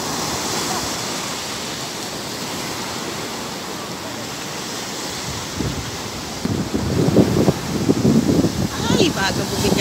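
Ocean surf at a Zambales beach roars as a steady, loud wash of crashing waves mixed with wind noise on the microphone, and people talk over it in the second half.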